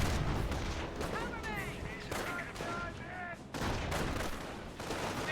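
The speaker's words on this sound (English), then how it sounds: "Getting some shots there on the Pak-38." Gunfire and shell blasts in Company of Heroes, aimed at a German Pak-38 anti-tank gun, come as repeated loud shots and bursts with whistling sweeps, all under steady battle noise and a commentator's voice.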